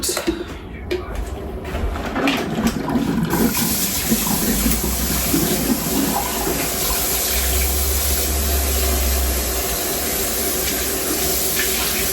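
Water runs from a tap in a steady, close rush for the full length as something is rinsed under it, with light clatter near the start.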